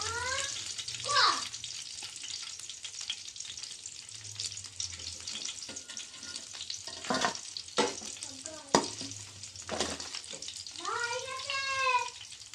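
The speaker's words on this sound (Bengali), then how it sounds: "পকোড়া আমার রেডি হয়ে গেছে একদম লাল লাল করে ভেজে নিয়েছি এবার সব তুলে নেবো" Pakoras deep-frying in hot oil crackle and sizzle steadily, with scraping as pieces are lifted out; a cat meows a few times over the frying.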